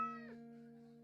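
A cat in the video game Streamer Life Simulator 2 gives a single short, faint meow that trails off within a second.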